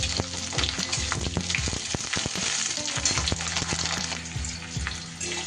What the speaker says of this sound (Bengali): তেলটা গরম হলে এর মধ্যে দিয়ে দেব আমি কিউব করে কেটে রাখা কিছুটা ক্যাপসিকাম, আর দিয়ে দেব পেঁয়াজ।